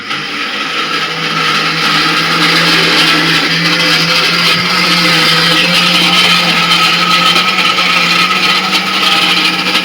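Loud, steady whine of a kitchen mixer grinder running continuously at full speed in a village home, a constant motor drone with no pauses.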